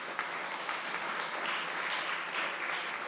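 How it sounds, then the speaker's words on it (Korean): A church congregation claps in congratulation for the parents of young students. The applause is a steady, even wash of many hands, moderately loud and unbroken for a few seconds. "이번에는 부모님들을 위해서 축하의 박수 한번 부탁드립니다."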